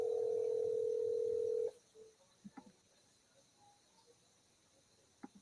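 A call placed from a Mac rings out on the line: one loud, steady ringback tone lasting under two seconds, then near silence with a few faint clicks.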